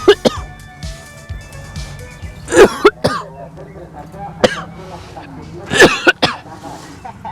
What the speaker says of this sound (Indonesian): abunya, wah, membuat saya batuk-batuk terus pemirsa